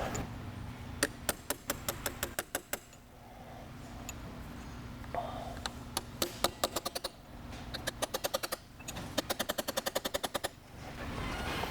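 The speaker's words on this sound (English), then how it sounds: "you can use an impact gun to remove the center clutch nut" A pneumatic impact gun hammers at the center clutch nut on a KTM or Husqvarna motorcycle with a DDS-style clutch, firing in several rapid rattling bursts separated by short pauses, loud and close.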